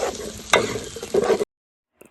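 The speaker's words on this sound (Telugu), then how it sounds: "అల్లం వెల్లుల్లి పేస్ట్ వేసుకుని బాగా అయితే కలుపుకోవాలి" Ginger garlic paste stirred in a frying pan, sizzling steadily with scraping spoon strokes and a sharp clink, close and fairly loud, before cutting to silence with a faint tap at the end.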